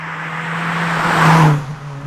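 A supercharged Toyota hot hatch engine revs, swelling to a louder whirring peak and then dropping back, heard close with a steady low engine tone beneath.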